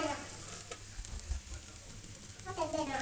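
Jeera rice stirred with coriander leaves in a pan, a soft steady sizzle with a few spatula scrapes and thumps against the pan, close and without talk.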